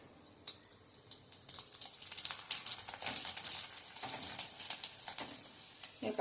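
Sabudana and varai papad dropped into hot oil in a pan on a gas stove, giving a steady close sizzling crackle that swells and pops irregularly as the papad puff up, with no voices.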